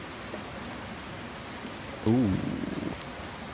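Rain falling in a sailing video game set off Barbados, a soft steady hiss throughout, with a brief voiced exclamation partway through.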